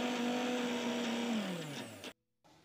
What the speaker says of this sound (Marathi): थंड झाल्यानंतर आपल्याला हे मिक्सरच्या भांड्यातून फिरवून घ्यायचे आहे।